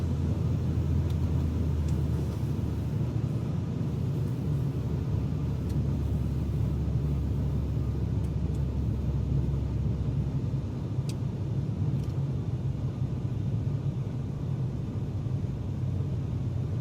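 A Cessna 310R in a flight simulator game rolls down the runway after landing, a steady low engine-and-wheel rumble with broad noise, fairly loud and continuous, with no talking.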